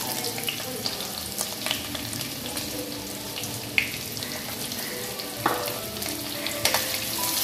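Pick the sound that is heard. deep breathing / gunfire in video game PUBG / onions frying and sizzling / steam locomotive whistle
onions frying and sizzling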